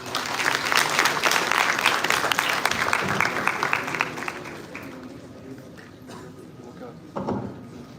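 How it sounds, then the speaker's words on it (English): Audience applause fills a conference hall at the LUMINESCENCE 2023 event, dense and loud at first, then thinning and fading, with a brief final burst of claps near the end. "let's give another round of applause for our esteemed panel"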